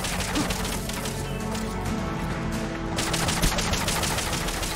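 Rapid gunfire from the video game Metal Gear Solid: Peace Walker, a dense sustained burst of shots over a constant loud game background, with no talking.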